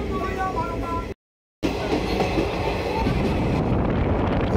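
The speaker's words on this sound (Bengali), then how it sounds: "এটা মলাপুর স্টেশন পাস করছে।" A train running through Mallarpur station without stopping on the Bolpur to Tarapith route, heard from on board as a loud, steady rumble with wheel and rail clatter and a brief dropout.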